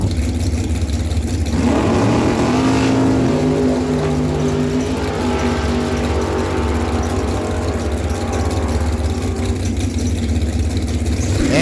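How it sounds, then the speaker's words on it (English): A 213 Chrome Works dragster on a drag strip at a dragway fall event roars through its launch, a sustained loud engine note climbing in pitch as it pulls away down the track and fades slightly toward the end. "Right side's bringing in Glenn McLean, 213 Chrome Works dragster with a 490 dial."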